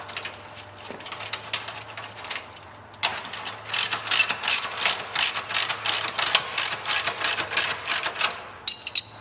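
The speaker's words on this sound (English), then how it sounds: "You're going to retighten that nut and bolt on the clamp ring assembly." A ratchet tightens the nut and bolt on the clamp ring of a vibratory separator screen, giving a close run of rapid, even clicking strokes after a few softer handling sounds.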